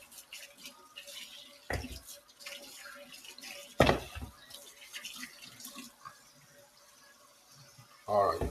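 Tap water runs softly into a sink while a plucked chicken is washed, a low steady trickle with occasional splashes and louder gushes, under quiet talk.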